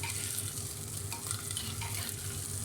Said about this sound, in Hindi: डालने के बाद अच्छी तरह इसको हम मिक्स करेंगे